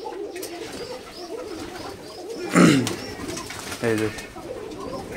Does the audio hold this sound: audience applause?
no